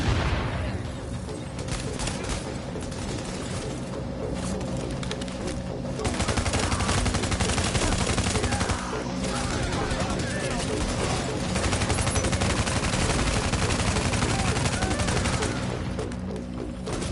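Sustained automatic gunfire in the video game The Division, with dense, loud machine-gun bursts and rattling shots running almost continuously through a chaotic firefight, and a voice heard among the shooting.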